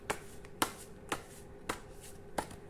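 Tarot cards are handled and shuffled, giving five crisp, quiet slaps and riffles at a steady half-second rhythm against a soft background hum.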